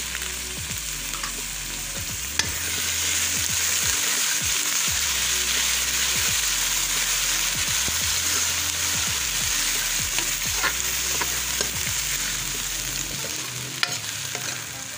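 Green chili paste fries in a pan for kadhi, giving a steady close sizzle. A utensil scrapes and stirs through it in repeated strokes.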